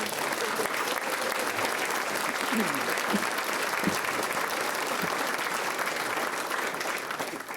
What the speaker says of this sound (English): could we just give a round of applause for all of our amazing volunteers?